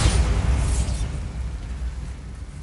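A Bombarda blasting spell in a Harry Potter video game erupts as one loud, dense rumbling boom that fades slowly over a couple of seconds.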